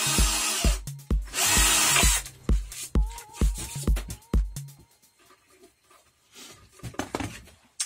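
Power drill boring small holes into an IKEA Uppleva MDF panel, a series of short, loud bursts with quick stops between them, then quieter scraping and handling noises toward the end.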